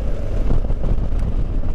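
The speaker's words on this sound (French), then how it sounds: "il y a un peu de vent." Steady wind buffets the microphone during a ride on a BMW R1200GS motorcycle fitted with Michelin Anakee Adventure tyres, a continuous low roaring rush that stays loud and even throughout.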